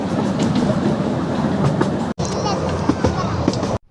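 A toy train ride on a beach-bound track runs with steady rolling clatter and rhythmic clickety-clack of wheels on rails, loud and close throughout, with a brief cut midway.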